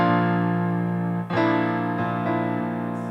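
Guitar chord fingered with a shortened finger, strummed and ringing out, with a few re-struck accents as it sustains close and clear.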